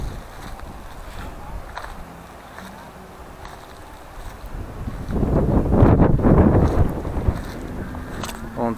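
Strong wind blowing by the sea at a windy cape in southern Vietnam, a low, blustery roar against the microphone that swells into heavier gusts partway through.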